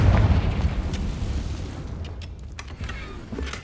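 A Confringo fire spell in Hogwarts Legacy detonates with a loud, deep boom that decays over a few seconds into a rumbling tail, with small crackles and pops trailing afterward; no voices.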